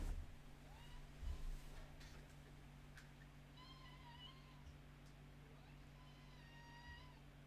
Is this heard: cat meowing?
yes